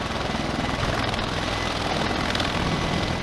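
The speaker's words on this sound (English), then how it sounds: "is a tilt-rotor aircraft that combines the vertical takeoff, hover, and vertical landing qualities of a helicopter" A V-22 tilt-rotor military aircraft flies close by, its rotors producing a loud, continuous pulsing roar with rhythmic blade chop and broad engine noise, no voices.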